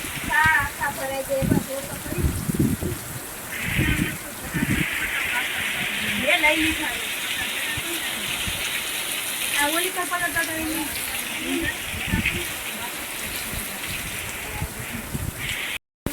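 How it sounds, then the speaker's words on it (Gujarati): Monsoon rain pours steadily on a waterlogged farm field, a continuous hiss with splashing, while people talk loudly nearby over it throughout. "આવો પેલો વરસાદ આવ્યો"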